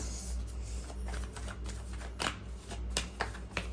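Tarot cards shuffled and drawn during a reading: a run of crisp papery riffles and soft slaps, close and fairly quiet, with a few sharper card snaps near the end and no voice.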